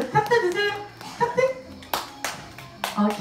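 A few people clap in short sharp bursts around a grey parrot named Lulu during a fortune-telling show, with the crisp claps coming between stretches of nearby talking and a voice.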